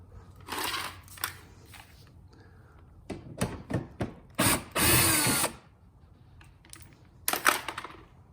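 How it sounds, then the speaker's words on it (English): A ratchet wrench loosens a 10mm bolt on the driver's-side bumper panel of a Lexus GX470, with quick clicking bursts up close and a longer buzzing run of clicks between short pauses. "So just remove this 10mm bolt."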